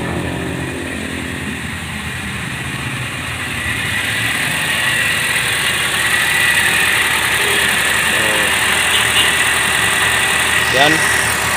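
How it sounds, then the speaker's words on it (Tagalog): A Ford EcoSport engine idles steadily after its alternator bearing was replaced, a smooth continuous hum that grows slightly louder midway, with a voice speaking over it. "umandar na siya mga boss. So titingnan muna natin doon sa alternator mga boss."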